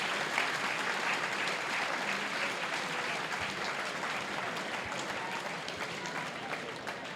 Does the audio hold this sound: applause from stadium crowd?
yes